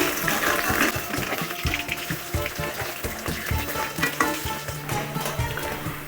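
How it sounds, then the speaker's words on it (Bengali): Bottle gourd leaf and masoor lentil pathuri fry in a pan over medium heat, with continuous close sizzling broken by repeated light scraping and clinking as the pieces are stirred and turned, with no talking. "পাতুরিগুলো ভাজার সময় গ্যাসের আঁচটা মিডিয়ামে রাখতে হবে"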